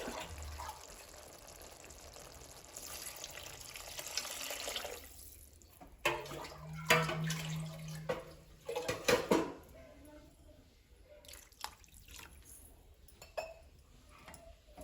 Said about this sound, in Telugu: ఒక గ్లాస్కి గ్లాసున్నర వాటర్ అయితే పోయాలండి